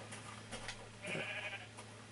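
A Minecraft sheep bleats once, a short faint wavering baa over quiet background hum and soft game sounds, with no talk.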